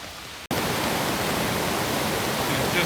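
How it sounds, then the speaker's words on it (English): A swollen mountain river in the Great Smoky Mountains near Gatlinburg, running high after Hurricane Ida, roars as a loud, steady broadband rush that cuts in abruptly after a brief quieter moment. "This is normally a very calm river that runs through here"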